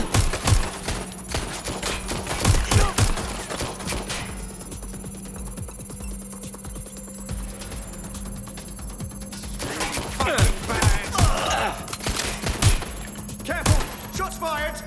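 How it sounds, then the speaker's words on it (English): Gunfire in the Watch Dogs: Legion video game, with loud bursts of rapid shots clustered at the start and again near the end, a quieter stretch of ambient game noise in between and a steady tone underneath. "Careful! Shots fired!"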